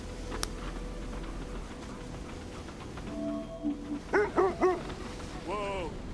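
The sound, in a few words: sled dogs barking in the video game Kona II: Brume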